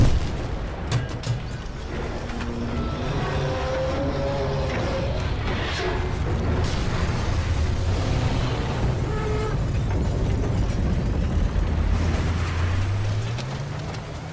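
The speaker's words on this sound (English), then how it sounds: "You could even bring down entire buildings now." Explosions bring down a building in the video game Battlefield Bad Company, with repeated deep booms and a long crumbling, rumbling roar building over several seconds, voices faintly underneath.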